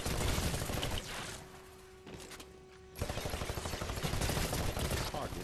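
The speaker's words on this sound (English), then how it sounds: "I had to shoot those things with an AR" Assault rifle fire from the Titanfall beta shooting range, dense bursts of rapid shots hitting targets, a brief lull with a steady tone mid-clip, then loud continuous firing resumes to the end.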